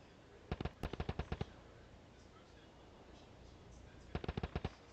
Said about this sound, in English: There's shooting going on.